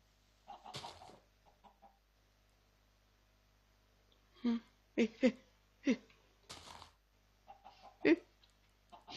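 Minecraft video game chickens cluck in a series of short, clipped calls, some spaced apart and a few bunched together, with quieter game sounds in between.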